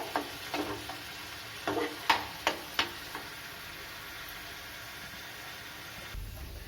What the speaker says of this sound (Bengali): আমি ভালো করে কষে নেব এইগুলো মশলাগুলোকে